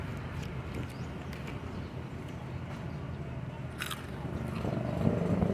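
Crisp crunching bites and chewing of a Vigan Chichacorn corn snack, close up, with a steady background hum and faint activity around.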